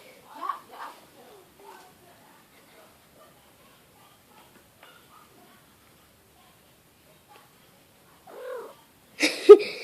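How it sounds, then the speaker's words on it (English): A pet cat gives a couple of faint, brief meows near the start, followed by long near-silence, then a person's voice and a sharp, loud noise at the very end. "If you heard that meow, that was Leo."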